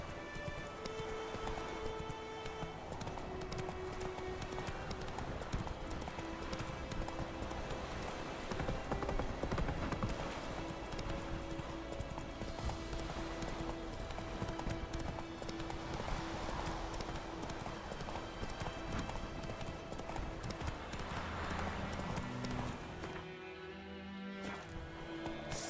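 Steady galloping hoofbeats of a horse in The Witcher 3, thudding continuously for about twenty-five seconds over a bed of game music, with a faint whinny near the end.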